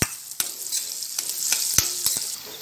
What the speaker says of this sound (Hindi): अब इसमें डाल देंगे 1 प्याज